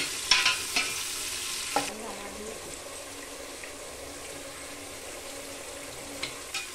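Sliced onions fry in a pan for masala rice with a steady, close sizzle, and a few scraping stirs and clinks come early before the frying hiss settles in alone.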